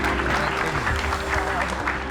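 A studio audience claps to welcome a religious teacher onto a television set, with dense, steady applause under a busy room tone and some talk.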